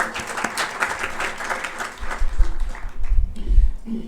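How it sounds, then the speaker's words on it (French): A crowd applauds at a Bitcoin conference in Dakar, scattered clapping that swells and lingers briefly, heard at a moderate distance in a large room. "Donc rien que pour ça, vous devrez vous applaudir"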